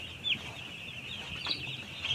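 Small broiler chicks in a poultry house give soft, scattered clucks and peeps over a steady high-pitched background chorus, with a couple of slightly louder calls standing out close by.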